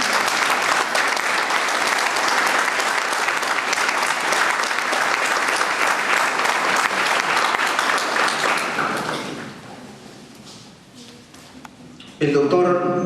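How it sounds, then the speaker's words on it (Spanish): Strong, sustained applause from an audience honoring a doctor at a lecture on civil liability, a dense steady roar of clapping that fades out near the end before a voice begins speaking. "le demos un fuerte aplauso al doctor Aníbal Torres"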